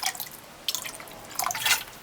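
Cow's tripe is rinsed in water with white vinegar, heard as close, light splashing and dripping in a few short bursts.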